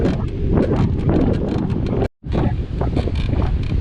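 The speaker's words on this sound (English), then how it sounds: "That wind is just incredible." Strong, relentless wind buffets the microphone on the Sandy Cape track along Tasmania's west coast, a loud continuous roar that drops out for an instant before rushing back.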